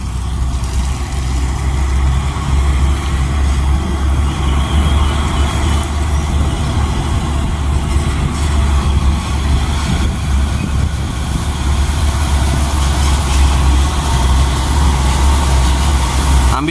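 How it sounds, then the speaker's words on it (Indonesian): Two Hino 500 trucks drive past on a road in heavy rain in Indonesia, a loud continuous diesel engine drone and road roar that stays close and steady throughout. "Kita lihat ini ada armada Mikael Hino 500 2 unit"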